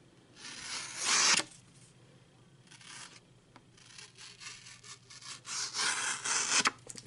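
A Real Steel G5 Metamorph knife slicing through heavy stock paper, giving slow, rough scraping strokes, one loud swipe early and a burst of several rasping cuts near the end, close and with no talk.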